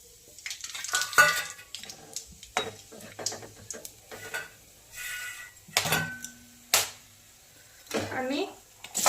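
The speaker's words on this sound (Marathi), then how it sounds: "मी आता जिरे घालून घेत आहे तेलामध्ये" Cumin seeds are tempered in hot oil in a pan with whole spices for an aloo matar pulao. Soft sizzling mixes with clattering utensils and scraping stirs in irregular bursts while someone talks.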